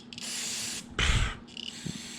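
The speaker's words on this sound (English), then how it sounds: "Don't get spray in your eyes. Clean the carb out a little bit here." Short bursts of carburetor cleaner spray hissing from a can onto a snowblower carburetor, one longer blast then a louder second spurt, close by with faint handling noises after.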